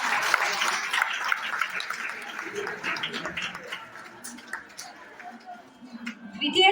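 At a school prize ceremony, an audience applauds a winner and her father with a steady wash of clapping that gradually thins out, while voices are heard underneath.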